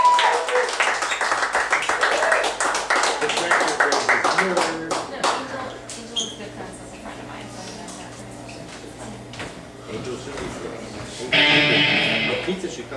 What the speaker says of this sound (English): Please welcome to the stage, David Moss. Give him a round of applause.